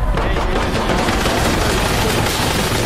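Sustained automatic gunfire in the tactical shooter Insurgency Sandstorm during a co-op firefight, loud, dense rapid bursts filling the whole stretch with no pause.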